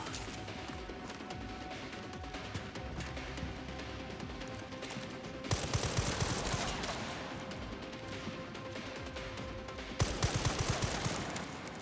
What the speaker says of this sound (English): The fact they can shoot me through the grate is so nasty.